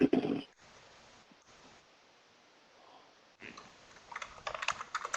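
Computer keyboard typing during an online review meeting, with a short burst of close keystrokes at the start and a denser run of clicking toward the end, separated by a quiet stretch of low room noise.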